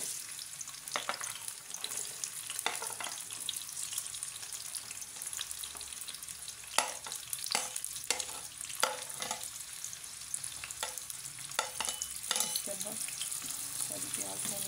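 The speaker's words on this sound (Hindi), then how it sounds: "इसमें अभी मैं डालूंगी ये सारी प्याज।" Sliced onions frying in a cup of hot oil for chicken biryani, a soft steady sizzle with scattered crackles and occasional stirring scrapes, quiet and close with no speech.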